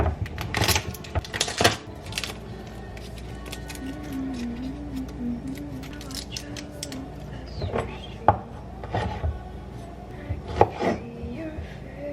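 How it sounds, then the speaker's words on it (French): Garlic cloves being chopped on a board, a run of quick knife taps with short pauses, close and fairly loud, with no talking. "J'ai coupé 2 gousses d'ail."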